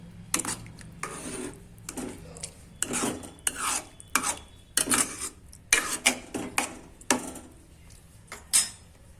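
A spoon scrapes and stirs mashed sweet potato halwa with milk in a pan, in repeated rasping strokes of uneven rhythm, close and fairly loud with no talk.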